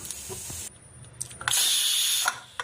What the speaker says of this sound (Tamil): குக்கர் ப்ரெஷர் ரிலீஸ் ஆகிடுச்சு.